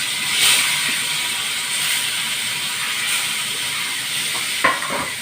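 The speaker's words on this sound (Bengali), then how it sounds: "ভেটকি মাছটা নুন হলুদ দিয়ে মেখে রেখেছি, তেল গরম হচ্ছে, ভাজতে দেবো" Bhetki fish rubbed with salt and turmeric sizzling steadily in hot oil in a kadai, a continuous close crackle with a few sharper spits near the end, no voices.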